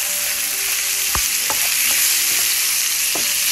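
Prawns sizzle loudly and steadily in a hot pan with garlic and parsley, a dense close frying hiss broken by a few scrapes of stirring.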